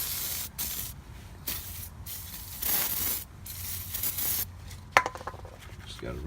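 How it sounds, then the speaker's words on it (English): Penetrating oil is sprayed from an aerosol can onto a seized brake caliper on a 2003 Explorer in a series of close hissing bursts, about five spurts with short gaps, followed by a couple of faint metallic knocks. "Get that penetrating oil in there."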